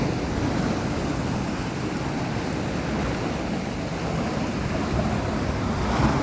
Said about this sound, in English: I do like watching waves come through and splashing through gaps like that though